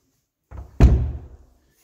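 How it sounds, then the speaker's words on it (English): Doors in a condo unit swing shut with a soft bump, then a loud, close wooden thud that fades over about half a second. "And when you close the doors"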